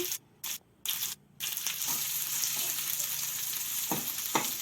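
Garlic and onion frying in oil for a banana stem dish: a steady close sizzle that starts after a few short bursts and gaps, with occasional stirring scrapes and clatter over the hiss.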